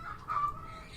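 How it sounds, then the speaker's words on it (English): Chickens kept alongside exotic birds clucking, a single short cluck, moderately loud against a quiet background. "I have chickens, and I have a lot of exotic birds"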